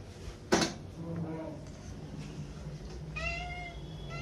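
A cat meows a few times, faint and close, while eating cat food, with a sharp clunk near the start and quiet background noise.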